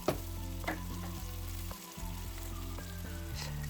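A tomato mixture, still watery, simmers and sizzles in a pan with a steady bubbling hiss, briefly broken by a soft stir partway through; no one speaks.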